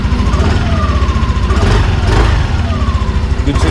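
A Yamaha NMAX V2 scooter engine idling close by, a steady low throbbing run with slight fluctuations and no voices over it.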